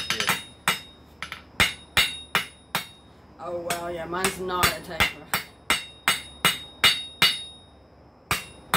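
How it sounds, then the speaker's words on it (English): A hand hammer strikes hot metal on an anvil while a hook is forged from a taper, sharp ringing blows landing in a steady rhythm with a short pause midway, as people talk briefly between strikes. "Make the hammer hit the same spot on the anvil every time."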